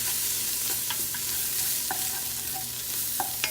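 A spoon stirs flour into beef chili in a pressure cooker, scraping in short irregular strokes over a steady sizzle, close and continuous with no talk.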